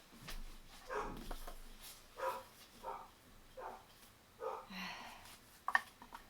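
A dog barks and yips several times in short bursts spread across a few seconds, moderately close in a quiet indoor room.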